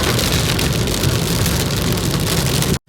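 Very heavy monsoon rain pours down hard on a road and vehicles, a loud dense hiss with constant drumming that fills the whole stretch before cutting off abruptly at the end.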